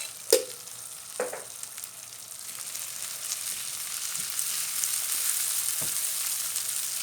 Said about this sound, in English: And we just fry our rice.